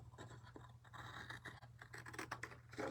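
Scissors cut through card stock at an angle while a baby envelope box card is made, giving a steady run of close, crisp scratchy snips and rustles across the whole stretch, with no talking.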